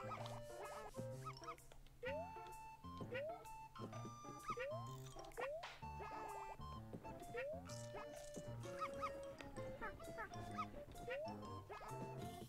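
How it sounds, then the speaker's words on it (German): Cartoonish dog barks and yips from the video game Yoshi's Crafted World, repeated in short bursts over bouncy game music, with someone talking throughout. "So, und irgendwo ist jetzt hier nochmal der Hund. Noch ein Hundiwundi."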